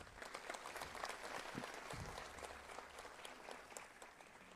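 An audience claps at a formal ceremony for a public information access institute's annual report in Guanajuato, a dense, sustained round of applause from a crowd in a hall, steady throughout with no talk over it.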